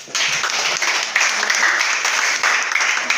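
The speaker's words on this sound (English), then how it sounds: "clap for her, please" Students at a self-awareness session in Ajegunle, Lagos clap for a classmate, a bright, steady patter of many hands in a room, fairly loud and continuous with slight swells.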